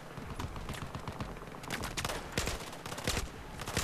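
A mounted gun fires in Battlefield 4 in rapid, uneven bursts of shots, loud and close, with steady battlefield noise underneath and no talking.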